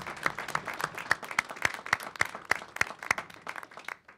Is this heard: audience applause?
yes